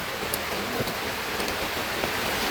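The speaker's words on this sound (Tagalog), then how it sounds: "Lakas ng ulan." Heavy rain pours over a farm field in the Philippines, a dense and steady hiss of falling drops that stays constant throughout with no voices.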